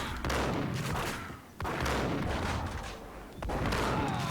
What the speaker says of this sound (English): now I'm gonna use the shotgun